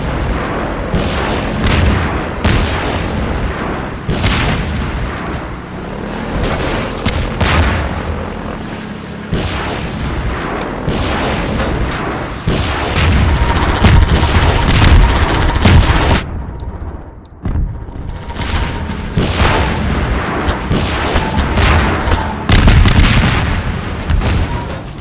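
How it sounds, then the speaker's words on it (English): Sustained heavy gunfire from the Half-Life 2 video game aimed at a helicopter, dense repeated shots and booms filling the whole stretch with only a brief lull near the middle. "Done shooting now?"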